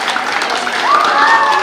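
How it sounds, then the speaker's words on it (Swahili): A crowd applauds at a community event in Kisumu County, with steady, dense clapping that swells slightly toward the end, and a faint whistle-like tone rises beneath it. "Piga makofi pale."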